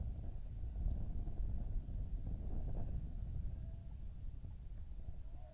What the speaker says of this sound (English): As you can hear in the background, a very windy day here at Wilder Park.